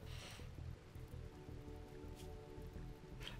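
Blood rain patters steadily in the Rimworld video game, a faint, even rain hiss with soft drips that keeps going without a break for the whole stretch.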